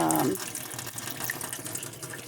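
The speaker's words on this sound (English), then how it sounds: "the water's coming out better than it was" Water running from a tap through a filter, a steady close hiss of flow that starts with a brief gurgling tone and then settles into an even wash.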